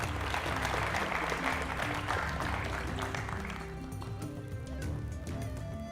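Applause rolls through the crowd at a university quiz challenge in Fiji, broad and sustained clapping from many hands that thins out partway through, with faint background chatter.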